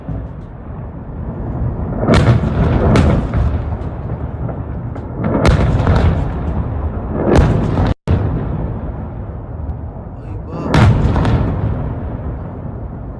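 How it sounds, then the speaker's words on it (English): Ballistic missiles strike Erbil in a series of heavy, booming explosions, about five distinct blasts rolling out over a continuous low rumble, with no voices. "you just saw 12 ballistic missiles hitting Erbil"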